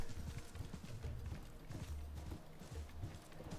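Camel mount hooves from Assassin's Creed Mirage, reusing the horse mount sounds from Valhalla, clop steadily in a quick running rhythm, fairly close and moderately loud, with faint talk now and then.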